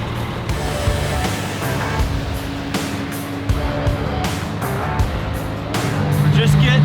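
A military 6x6 firetruck being driven, its heavy engine droning loud and steady with rumbling low tones and periodic thumps, rising slightly toward the end, while voices talk over it.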